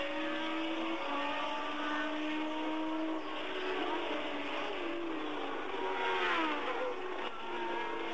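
Formula One race cars at the 1979 French Grand Prix scream past at high revs, engine notes climbing and sweeping through gear changes, loud and continuous.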